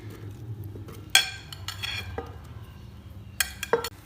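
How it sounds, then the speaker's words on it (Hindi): Pieces of peach dropped into a blender jug while making peach jam in a home kitchen, heard as a few scattered clinks and soft thuds against the jug with quiet handling sounds in between. "इसी तरह अब ये आड़ू डाल देंगे ब्लेंडर जग में।"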